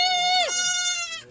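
A young goat on a ranch gives a single loud, wavering bleat up close, falling in pitch midway, then a quieter trailing cry.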